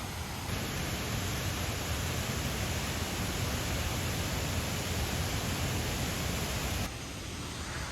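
Continuous broadband rushing of falling water, steady and unbroken, like a jungle waterfall heard from some distance through trees; no voices.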